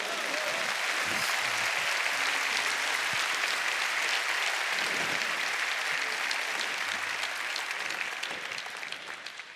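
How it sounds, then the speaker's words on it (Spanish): A large church congregation applauds loudly and steadily, and the clapping starts to fade near the end. "Dale fuerte el aplauso al Señor."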